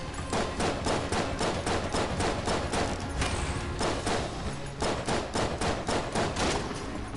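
Rapid bursts of video-game gunfire from Enter the Gungeon, a dense run of sharp repeated shots in quick clusters with brief pauses between volleys.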